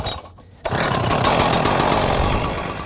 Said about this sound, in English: Let's go ahead and start the motor.